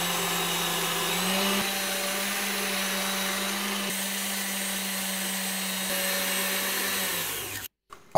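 An electric mixer whips eggs and sugar for a chocolate mousse cake, running as a loud, steady whir throughout before cutting off abruptly near the end.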